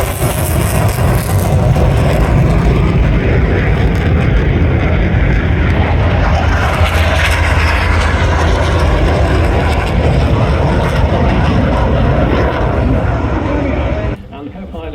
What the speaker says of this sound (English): We have a Poseidon coming in from the right.